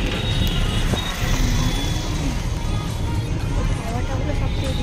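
Steady, close rumble and road noise from a moving toto (e-rickshaw) on a rainy street, a continuous broadband wash with faint passing traffic.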